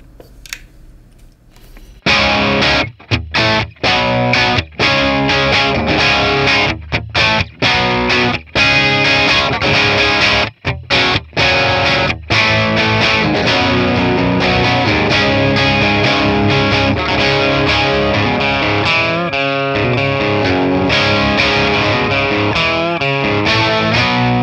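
Electric guitar played through a bright edge-of-breakup Matchless Laurel Canyon amp capture, slightly driven chords and lines ringing continuously after a brief quiet start, loud and alone with a few short choked pauses.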